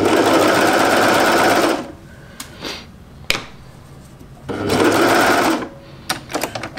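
Sewing machine stitching a knit jumpsuit in two loud, steady runs, each a couple of seconds long and separated by a pause filled with small clicks and handling sounds, with more clicks after the second run.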